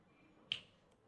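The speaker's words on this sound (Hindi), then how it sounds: "लो, मैंने चुटकी बजाई" A single sharp finger snap, close and crisp, in a quiet indoor room with faint background hiss.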